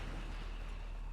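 A deep, rumbling blast from a wall-breaching explosion in the strategy game XCOM 2, heard as a sustained low boom with a noisy, washing tail and no clear onset.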